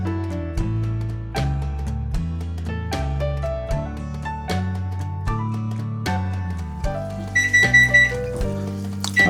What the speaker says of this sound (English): there's my timer. I had that set to let it cook for 10 minutes